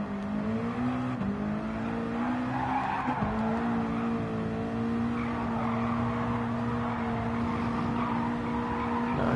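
A race car in a NASCAR Cup Series game at Road Atlanta braking hard into a corner, with tires squealing in a steady sustained whine over a droning engine, loud and close with no voices.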